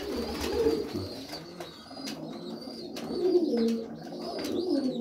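Tumbler pigeons coo softly in repeated low, throaty rolls, close by, with a few higher chirps and rustles around them.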